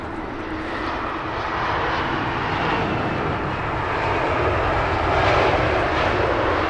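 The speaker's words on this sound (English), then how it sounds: "nice floaty arrival from the BA 320" British Airways Airbus A320 landing at London Heathrow, a broad steady engine roar that swells slightly as the jet passes, continuous and fairly loud with no talk.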